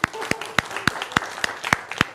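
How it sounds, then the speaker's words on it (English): Audience applause for a student in a university machine learning class: sparse, evenly spaced sharp claps, about eight in two seconds, close and fairly loud, with faint murmuring behind. "let's give a round of applause to Frodo."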